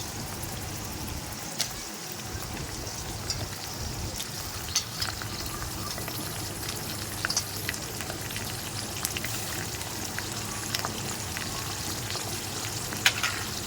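Prawns fry with fenugreek in a pan for a Maharashtrian-style stir-fry, giving a steady close sizzle and crackle throughout, with occasional louder pops and a brief clunk early on.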